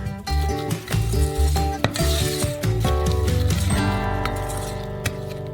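A spoon stirs hot cream with freeze-dried raspberry in a pan while candy is made, giving a soft continuous scraping and swishing under loud background music.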